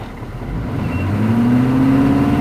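A K5 vehicle's engine revs up steadily, its pitch climbing and holding under a loud, close drone with no talking.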